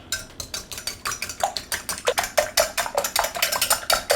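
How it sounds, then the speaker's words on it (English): A hand whisk beats eggs in a bowl with a quick, steady rhythm of close, bright metallic clicks and scrapes against the bowl, repeating without pause. "we're gonna whisk these eggs until they are light. I'm just gonna do this by hand today"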